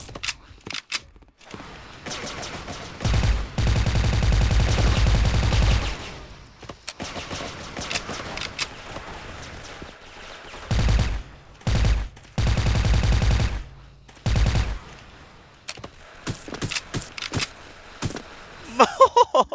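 Suppressed AK rifle with a wooden build in an online shooter game, several bursts of muffled automatic fire separated by pauses, with mechanical clicks and handling noises between them.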